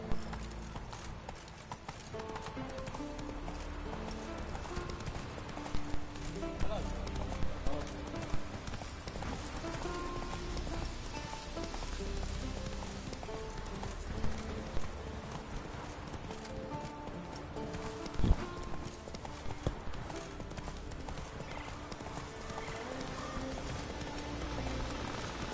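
Hooves clip-clop steadily as a horse-drawn coach moves along, a continuous rhythmic clatter at moderate distance under a busy background with a brief neigh.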